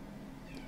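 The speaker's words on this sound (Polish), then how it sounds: "Mam nowego kota, więc pewnie możecie słyszeć, że on miauczy." A pet cat gives a short, faint meow, heard indoors over a steady low hum of room noise.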